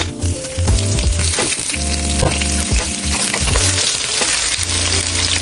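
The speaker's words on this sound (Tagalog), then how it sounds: "ring onions. Prito po natin." Ring onions fry in a pan while preparing bistek Tagalog, a loud sizzle with bright crackles and clinks of a utensil against the pan, and a steady tonal hum running underneath.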